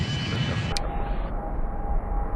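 Boeing MD-90 airliner on landing approach, its engine roar a loud, steady broadband rumble heard from close inside, with a faint tonal hum and a brief click partway through.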